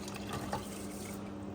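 Water pours steadily into a pot with a continuous splashing rush, close by and moderately loud, without any voices.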